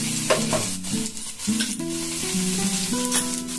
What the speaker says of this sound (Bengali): দিয়ে দিলাম আমি একটু সর্ষের তেল পরিমাণ মতো, দিয়ে দিলাম একটু জিরে